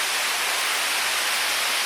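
Hatchbrook waterfall cascading on the West Pennine Moors, heard as a dense, steady rush of falling water with no breaks, fairly close and continuous.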